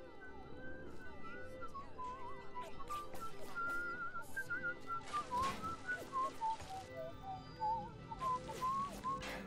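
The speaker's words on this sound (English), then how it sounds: "My whistling?" Tuneful whistling in the Bioshock game, a wavering melodic line that runs throughout over a dense, busy background of game sound and music.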